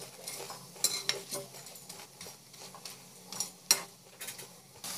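Pindi vadai being turned over in a pan, with soft clinks and scrapes of a utensil against the metal over a faint low sizzle, a few sharper knocks standing out from the quiet cooking noise.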